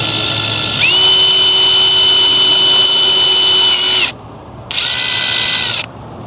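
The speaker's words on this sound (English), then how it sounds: "We got the little hole drilled" A power drill bores a small hole in a van's body for camera wiring, a loud whirring run of about three seconds, a short pause, then a second burst, close and without talk.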